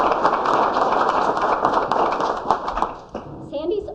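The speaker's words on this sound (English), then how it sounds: "Let's do the applause." Audience applause at a congressional arts competition, dense steady clapping from a crowd that fades near the end as a voice starts to speak.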